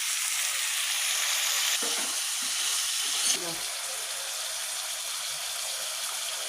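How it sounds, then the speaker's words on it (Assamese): Goat meat frying and being stirred in a pan, a continuous close sizzle and hiss with brief scraping stir sounds partway through, with no voices. "এতিয়া মই এনেকৈ 10 মিনিটমান মাংসখিনি ভাজি ল'লোঁ।"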